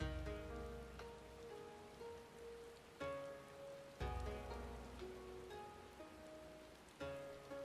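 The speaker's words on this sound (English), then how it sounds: "Of course it's raining." Soft steady rainfall with patters on a surface in the video game Final Fantasy XIV, over a quiet backdrop of sustained musical tones that shift every second or so.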